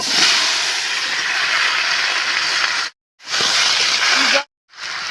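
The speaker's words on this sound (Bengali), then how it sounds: "আমি এর ভিতরে এই যে কচু ঢেলে দিচ্ছি এখন" Taro pieces hit hot oil with a loud, continuous hissing sizzle that cuts out briefly twice before resuming, close and intense with no talking.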